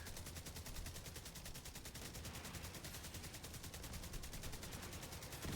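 A deployed turret in a shooter video game fires a rapid, unbroken stream of shots for several seconds, a dense mechanical rattle holding steady volume with no voices over it.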